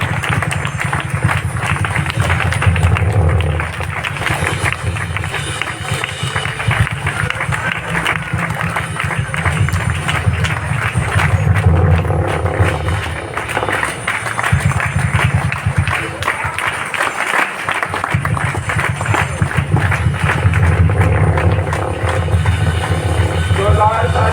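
Audience applause at a youth seminar in a parish hall, continuous crowd clapping over a low steady hum, sustained and fairly loud throughout.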